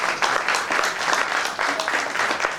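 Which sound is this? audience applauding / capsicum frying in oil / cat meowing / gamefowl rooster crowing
audience applauding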